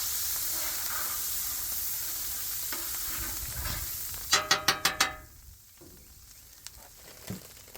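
Garlic butter and vegetables sizzle and fry on a Blackstone griddle at a hibachi-style cook, with steady hissing throughout and a quick run of five sharp scraping or tapping strokes in the middle.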